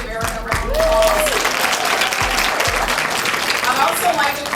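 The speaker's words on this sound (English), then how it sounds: "Let's give Erica a round of applause." A crowd at a players' wives association fashion show and benefit gives Erica Lassiter a sustained round of applause, loud continuous clapping with a voice speaking briefly over it.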